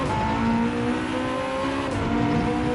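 A Porsche hypercar engine in Gran Turismo 7 drones at high revs with a steady, buzzy tone, close and continuous, with a faint tire squeal mixed in.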